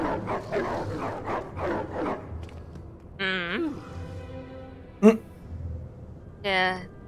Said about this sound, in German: Der dreiköpfige Hundi.